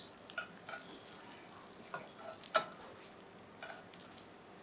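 Snap pea spring rolls frying in a pan, a quiet, close crackle of light sizzling pops and a few soft utensil clicks, faint overall.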